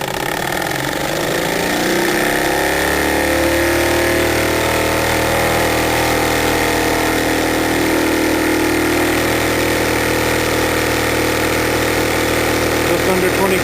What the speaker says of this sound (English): Reverse the engine.